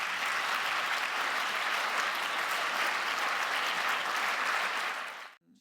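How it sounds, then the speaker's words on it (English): A conference audience applauds a panel after a session on 2026 findings, sustained and even clapping from a large room that stays level for several seconds and then cuts off abruptly at the end. "Why don't you give our panel a round of applause for their thoughts?"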